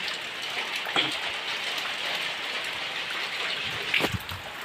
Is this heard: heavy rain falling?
yes